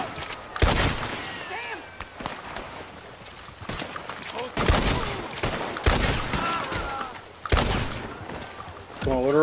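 Gunfire in Red Dead Redemption 2 Online during bounty hunting: several loud, sharp shots in separate bursts, with someone talking between them and ringing tails after each blast.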